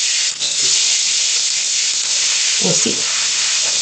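Food getting a quick fry in a pan for homemade egg bites, giving off a steady close sizzle and hiss throughout, with a few low knocks and a brief spoken remark partway through.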